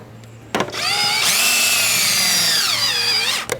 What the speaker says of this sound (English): this is a conical step bit. This is a nice tungsten carbide one.